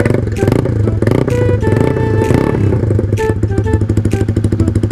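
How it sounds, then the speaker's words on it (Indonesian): Honda Sonic 150R motorcycle engine revving hard, its raspy, crackling exhaust loud and close, with a pulsing, stuttering throttle blips throughout and no speech. "gasbolnya tuh kayak habis kebakar setengahnya lah, jadi kayak cempreng-cempreng gimana gitu."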